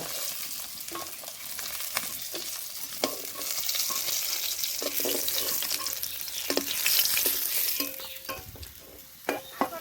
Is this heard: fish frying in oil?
yes